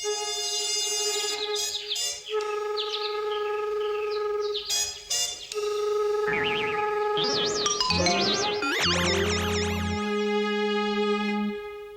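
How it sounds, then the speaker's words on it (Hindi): Cartoon birds chirp and twitter in a sweet, melodic chorus over a cool morning breeze scene in a Doraemon episode, with bright warbling calls layered over sustained tones and music. "ठंडी हवा, मधुर पक्षियों की आवाज"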